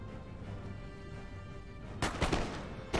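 Troops open fire in the video game Empire: Total War: after a low steady rumble, a burst of clustered musket-like shots crackles out near the end, with one more sharp volley at the close.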